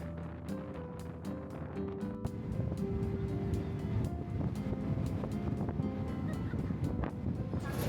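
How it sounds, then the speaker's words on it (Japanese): Sydney ferry ride with steady wind and rushing water and surf noise all around, a continuous low roar with faint clicks, no talking. "また船に乗って帰ります。"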